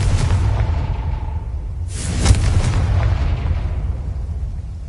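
Confringo blasting spell in the video game Hogwarts Legacy, a whooshing burst that erupts into a loud rumbling explosion midway, over a constant low roar of game ambience.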